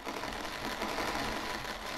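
A coffee grinder grinding beans in the video game Barista Simulator, a steady, even mechanical whir that holds unchanged throughout at moderate level.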